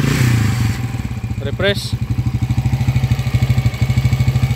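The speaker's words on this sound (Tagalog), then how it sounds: "Pakinggan natin ang makina." An overhauled motorcycle engine from Rosales, Pangasinan idles loudly and close in a steady pulsing putter, with a brief rev early on and a few spoken words over it.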